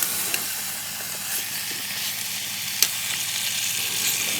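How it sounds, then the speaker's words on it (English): Beef brisket browns in an Instant Pot, giving a steady close sizzle and hiss with a couple of faint clicks, no voices. "And as it's browning, you'll want to, on the top side, add a tablespoon of the rub and continue browning."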